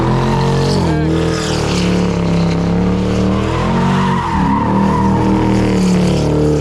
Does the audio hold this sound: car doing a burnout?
yes